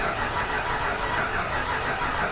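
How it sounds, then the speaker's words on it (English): A Ford Mustang engine cranks on its starter with a steady, dense mechanical churn that stays loud and close throughout without catching. "So we actually get crank."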